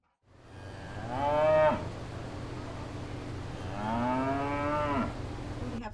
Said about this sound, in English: You see that cow?